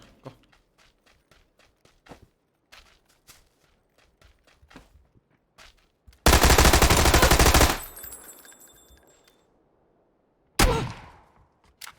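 A Tommy gun in PUBG fires one sustained loud automatic burst of about a second and a half, then a second short burst, after a stretch of light footsteps and clicks.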